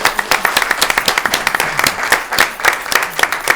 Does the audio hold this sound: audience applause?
yes